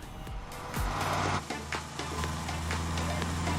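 Cars in a video game trailer set in Hawaii roar and rev up close, with engine swells, a quick pass and tire noise over a humming backdrop.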